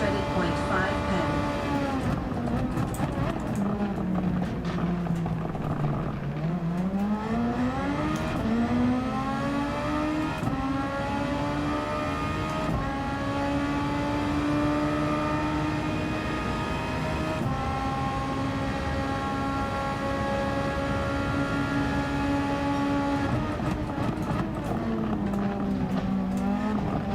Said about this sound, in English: this engine sound is awesome